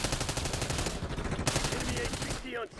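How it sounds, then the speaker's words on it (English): Continuous automatic gunfire in the Call of Duty Black Ops 6 video game on the Shattered Veil map, with loud, rapid, rhythmic bursts that carry on almost without pause, and a faint voice briefly underneath near the end. "just shooting anyone I see"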